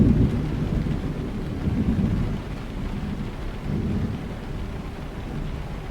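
A thunderstorm in Euro Truck Simulator 2 rumbles low and steady, with rain hissing over a deep rolling thunder that swells and fades across several seconds, loud and without speech.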